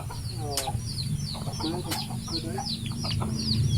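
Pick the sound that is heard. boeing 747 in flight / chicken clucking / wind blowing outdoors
chicken clucking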